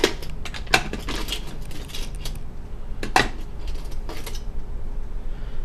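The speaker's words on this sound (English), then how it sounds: "you could use your little flathead screwdriver to pry it open" A flathead screwdriver pries the plastic screen bezel off a laptop, giving a few sharp close clicks and creaking snaps between quiet pauses.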